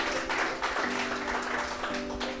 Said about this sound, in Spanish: Levante un aplauso de júbilo, de gozo al Señor, nuestro Dios todopoderoso.